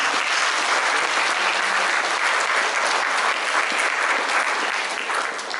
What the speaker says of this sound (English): Why don't you put your hands together for a very big round of applause for all